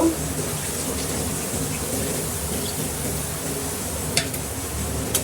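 Water is poured steadily into a pot of cooking country chicken curry, making a continuous close rushing splash throughout with a couple of brief clinks near the end.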